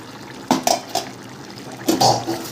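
Metal lid lifted off a cooking pot of simmering Bengali curry with taro and potatoes on a gas stove: a few close clinks and clatters, then a louder scrape of metal against the pot rim.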